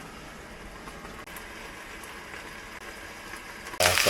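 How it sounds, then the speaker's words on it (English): Hot oil spatters and crackles as pot stickers fry in a pan in a van kitchen on a rainy day, giving a steady fizzing hiss that ends in a sudden louder burst of sizzle. "The oil is splattering everywhere, so you gotta be careful."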